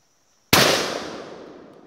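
A single gunshot fired on a jungle hunting trip in Guyana cracks out sharply after a moment of silence, then a reverberant tail fades away over more than a second.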